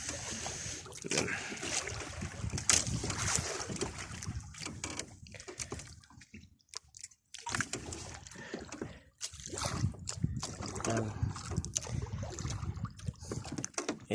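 Small boat with a 19 horsepower engine out at sea, a steady motor drone mixed with water splashing and wind noise for about fourteen seconds, briefly dipping quieter midway before the hull and engine sound returns.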